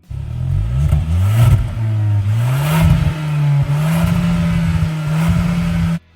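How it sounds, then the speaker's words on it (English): A Kia Sportage engine revs hard and loud, its exhaust crackling with repeated pops and bangs over a steady droning rumble. "the exhaust pops and bangs all day long"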